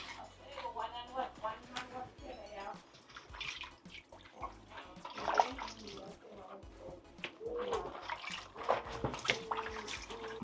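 Corn cobs being washed in water for jerk corn, with splashing and dripping sounds and handling noises running continuously at a moderate level under an unseen cook's activity.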